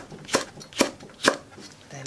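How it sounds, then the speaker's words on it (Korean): A knife slicing through a green chili pepper on a board, three crisp evenly spaced chops close to the microphone. "청고추 하나도 이렇게 잘라주고요"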